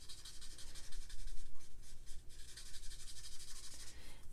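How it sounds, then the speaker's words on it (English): A marker is rubbed steadily back and forth across cupcake-patterned paper in a card-making craft session, a continuous close, scratchy rasping with brief pauses and no talking. "And I'm gonna color in the cupcake paper."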